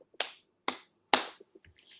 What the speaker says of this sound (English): I'm going to clap my hands. Show me how many times I clap.